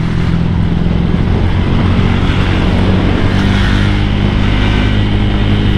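A motorcycle fitted with a BRT 63mm engine cruises at high speed, its steady engine drone and wind roar loud and continuous throughout with no pauses.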